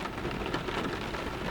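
Heavy rain pours steadily in a dense, even hiss across the whole stretch, with a low rumble of thunder beneath, loud and continuous with no pauses.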